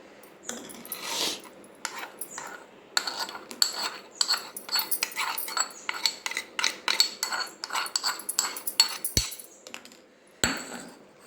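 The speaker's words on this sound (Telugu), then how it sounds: "పోపు ఇందులో వేసేసుకొని కలుపుకోవాలి" A spoon clinks and scrapes rapidly against a bowl, stirring a tempering into curd in a quick, uneven rhythm, close by, with a couple of sharp knocks near the end.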